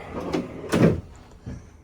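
Drawers in a Celebrity Apex cruise ship cabin sliding open and shut, three short wooden knocks and rumbles spaced across under two seconds, close and moderately loud.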